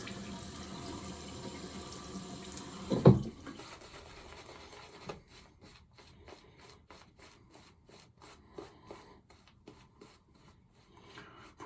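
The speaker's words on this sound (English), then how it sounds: "Some people will dribble water onto it that way." Tap water dribbling onto a shaving brush: a brief louder splash, then soft intermittent trickling and wet rubbing, faint and close, with no talking.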